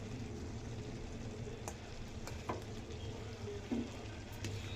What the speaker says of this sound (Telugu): కాస్త ఈ పేస్ట్ అనేది కూడా మనకు ఇందులోనే ఫ్రై అవుతుంది